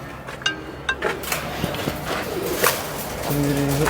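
Pigeons coo in a few low, throaty bursts near the start, mixed with outdoor clatter and background noise, while voices talk faintly nearby.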